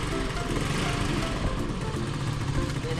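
A newly acquired motorcycle's engine runs loud and close with a rough, rattling, steady buzz that fills the short stretch.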